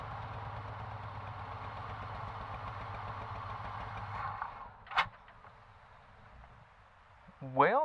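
An old 1983 Chevrolet C10 truck engine idles with a steady low rumble for several seconds, then cuts out, leaving a sharp click and a short rising whirr near the end.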